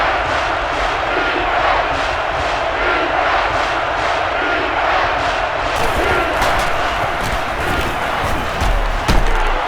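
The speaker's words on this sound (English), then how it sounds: "This crowd is energetic, and they'd really love to see a stop right here." A stadium crowd in the NCAA Football 2011 video game, Notre Dame at USC, keeps up a loud, continuous roar of cheering and shouting, with a commentator's voice partly under it.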